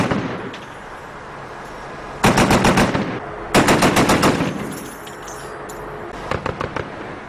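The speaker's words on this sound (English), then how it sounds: "American gunners laid into suspected Taliban positions. Using 2 .240 machine guns and a .50 caliber," Two M240 machine guns and a .50 caliber firing at night toward suspected Taliban positions near the Pakistan border, loud rapid bursts of automatic fire in two long strings and a short final burst, with distant booms between.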